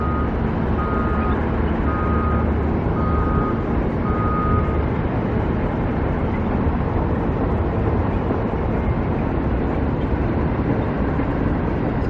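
Reversing beeps from a truck at a stadium construction site in Las Vegas, a few spaced electronic tones over a loud, constant wash of heavy machinery and engine rumble.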